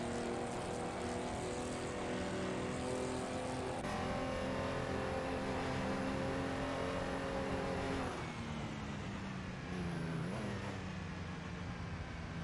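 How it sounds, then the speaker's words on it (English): Racing cars in a video game race, including a Bugatti, with a continuous droning, high-revving engine tone that shifts pitch as gears change, steady and loud without speech. "We just saw Taylorly driving a Bugatti"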